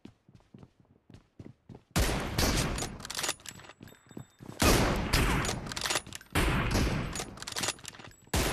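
Rapid gunfire in the mobile battle game BGMI, sparse single shots at first, then a loud, dense stretch of automatic bursts with brief pauses between volleys.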